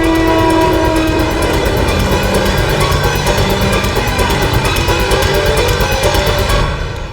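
A moving train rumbles loudly and steadily in India near Mandideep station, with sustained horn tones and a fast rhythmic clatter from the wheels running throughout until it fades slightly at the end.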